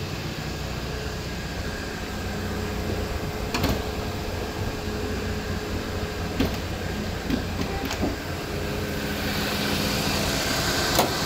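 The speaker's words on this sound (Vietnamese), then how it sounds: "Máy đang lổ đây, lổ khá êm, lổ tròn tiếng." A 1.8-litre car engine idling smoothly under an open bonnet, a steady, even low hum with a few faint clicks and a slight rise in level near the end, no talking.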